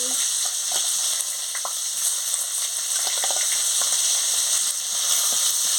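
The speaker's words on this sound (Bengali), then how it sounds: "কড়াতে তেল ছিল আমি ওই পেঁয়াজগুলো দিয়ে দিচ্ছি" Sliced onions dropped into hot oil left in a wok after frying potatoes for a tilapia fish curry, a steady loud hissing sizzle with scattered crackles and pops, heard close and alone.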